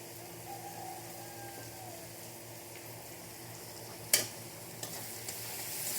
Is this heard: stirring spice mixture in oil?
yes